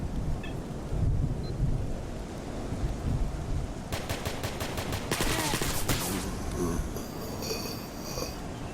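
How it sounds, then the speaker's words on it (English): Gunfire in the video game Stalker Anomaly, heard as rapid bursts of automatic shots at middle distance over gusting wind and rain-like noise, with clearer sharp volleys partway through. "Not sure who they were shooting at, but okay."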